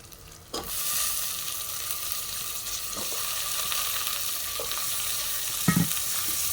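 Brinjal pieces hiss and sizzle steadily in hot oil in a pan, loud and close, with occasional clinks and stirring scrapes and no talking.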